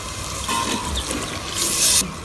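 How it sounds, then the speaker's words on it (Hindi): Water splashed into a pot of cooking chicken masala for a lauki chicken dish, a short gush of pouring liquid rising to a brief louder surge near the end, close by. "थोड़ा सा पानी का छमका लगाएंगे।"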